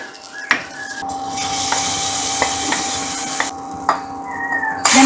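Hot spiced tempering poured into a pan of sambar curry gives a loud, steady sizzle lasting several seconds, with sharp metallic clinks of a utensil against the pan.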